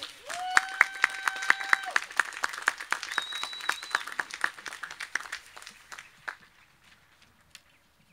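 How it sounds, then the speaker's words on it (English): Commencement crowd applauding a graduate, brisk clapping with scattered sharp claps and brief whistle-like tones, tapering off and fading to a few isolated claps by the end. "Let's have a hearty round of applause again for our graduate."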